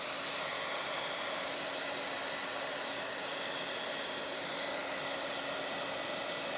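A hair dryer blows steadily on the back of a Bible journal page, a close, loud, continuous broadband whoosh with a faint steady whine, running unbroken with no talking.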